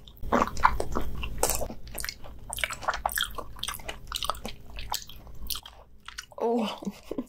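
Close, wet chewing and biting of bluefin tuna sashimi dipped in soy sauce and wasabi, with soft squishy mouth sounds in irregular bursts and a brief murmur near the end.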